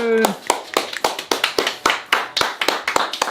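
A small group claps by hand for the reveal of a homemade spread. The claps are close and loose, about a dozen sharp slaps arriving in an uneven rhythm with no voices.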